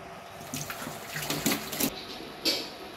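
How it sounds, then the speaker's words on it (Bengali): Tap water runs and splashes while a cup is rinsed clean in a kitchen sink. The water sounds close, in short uneven gushes that swell and drop over a few seconds, with no talking. "এবারে তাহলে কাপটা ধুয়ে নিই"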